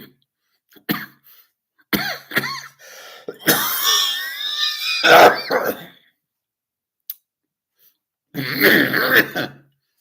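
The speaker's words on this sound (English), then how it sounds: "I can't get rid of this hacking cough." Several harsh, rasping coughs in short bursts, with brief quiet gaps between them, close to the listener.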